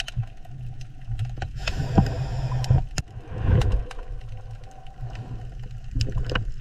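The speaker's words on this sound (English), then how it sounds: "It's a walrus." A walrus vocalizing: low, rough rumbling grunts swell and fade, punctuated by sharp knocking clicks, heard alone and fairly close without any talk.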